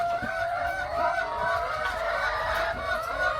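Laying hens on a farm clucking and murmuring together, a steady close chorus of overlapping warbling calls.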